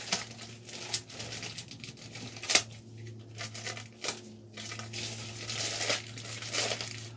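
Plastic packaging being unwrapped from three triple T bars for a mountain bike build, soft close crinkling in irregular bursts with a few sharper crackles, quiet and without talk.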